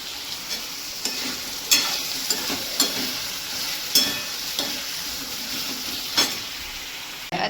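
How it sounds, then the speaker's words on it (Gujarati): Val (field bean) sabji cooks in a pan with a steady, close sizzle and frying hiss, broken by short sharp clicks and scrapes of stirring, and no voices. "ચલો ભાઈ હવે આપણું શાક થાય છે."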